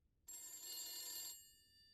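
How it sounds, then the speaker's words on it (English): A telephone rings in the video game The Beast Inside 2, one bright electronic ring lasting about a second before it cuts to a fading tail, fairly quiet with no talk. "Let's go answer that phone."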